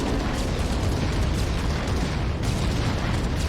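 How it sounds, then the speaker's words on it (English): A cluster bomb going off in the shooter Contractors Showdown, heard as a sustained, rumbling wash of blast noise that stays loud and even throughout. "I try to place a cluster bomb to block him off"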